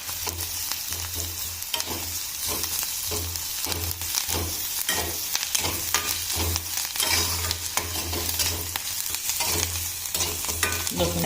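Garlic sautés in a pan with a steady sizzle, broken by repeated scraping and stirring strokes against the metal and a low, pulsing hum underneath, close and fairly quiet.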